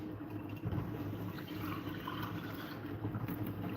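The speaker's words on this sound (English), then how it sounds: "put a little bit of more water." Water poured into a simmering meat sauce pot while cooking ugali, a steady liquid splash and fill sound running continuously at close range with no talking.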